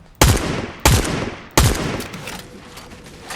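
Three loud, sharp video game gunshots, evenly spaced about two-thirds of a second apart, each ringing out with a short echoing tail.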